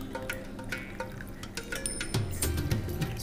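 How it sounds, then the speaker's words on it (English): Cinnamon tea gently poured into a glass, a close, steady liquid trickle that grows fuller and more gurgling toward the end. "gently pour the tea in the glass"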